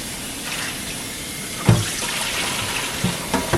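Tap water runs steadily into a sink while a juicer is rinsed, with a few sharper splashes and knocks where the parts meet the stream.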